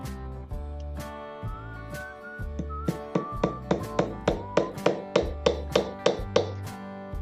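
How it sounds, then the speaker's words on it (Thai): A hammer drives nails into wood while a loft-style chair is built, starting with a few spaced knocks and then settling into a steady run of loud, close, ringing strikes about twice a second, with no voices. "นำไม้ตัวนี้ครับมาตอกกับติดกับตะปูนะครับ"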